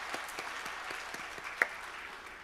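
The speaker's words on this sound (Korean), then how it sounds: "하나님께 박수로 영광을 올려드립니다" Congregation applause in a church during a special dawn revival service, a steady, fairly faint wash of many hands clapping with a few sharper claps poking through, no voices on top.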